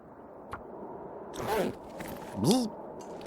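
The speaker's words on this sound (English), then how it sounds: "That was a loud zipper." A clothing zipper in the survival game The Long Dark, pulled in two quick loud rasping strokes close up against a quiet background, preceded by a faint tap.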